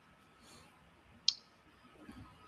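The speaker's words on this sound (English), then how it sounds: "Are you clicking on this button where the screen is visible?" A single sharp computer mouse click, quiet and close against a faint background hum, with no one speaking.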